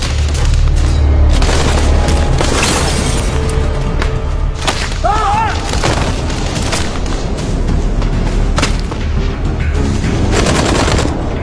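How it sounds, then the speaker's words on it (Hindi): Gunfire crackles during Indian Army Para SF commando training, loud rapid bursts and heavy booms layered over one another in a dense, continuous barrage, with a brief shouted voice partway through. "रोहन फायर एग्जैक्टली किस तरफ से आ रहा है?"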